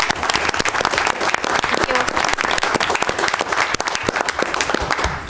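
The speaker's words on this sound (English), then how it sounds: "So let's give Patty a round of applause." A room at a county board meeting breaks into sustained, dense applause for a volunteer, steady clapping from many hands filling the space without pause.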